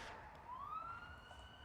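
In the video game Ghost Master, a faint, distant siren wails once with a rising tone and then holds steady over a quiet background.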